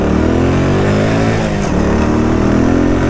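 A Daytona DY125RS 125cc motorcycle accelerates in first gear, its small engine buzzing loud and close as the revs climb. Wind noise runs under it throughout, and nobody speaks.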